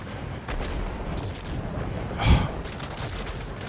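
Aircraft guns on an I-215 tier X multi-role plane in World of Warplanes fire in rapid continuous bursts over engine drone, with one louder, heavier burst partway through.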